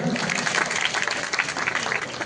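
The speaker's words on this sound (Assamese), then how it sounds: "এই আই মাতৃসকলৰ বাবে এটা জোৰকৈ হাত তালি দিয়ক" A crowd at a live music concert breaks into loud, continuous applause for a group of mothers being welcomed onstage, a steady dense wash of hand claps.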